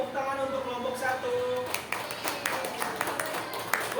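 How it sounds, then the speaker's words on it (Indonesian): A classroom group of students applauds a presenting group with scattered, light hand claps that build in the second half, following an adult voice speaking. "Tepuk tangan untuk kelompok 1."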